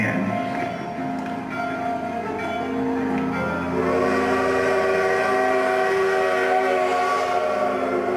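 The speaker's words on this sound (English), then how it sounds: "How long do we have to wait for this train, Gus?" A train pulls into a station as a drama sound effect, with steady rumbling and long tonal horn or whistle notes held throughout at a loud, close level.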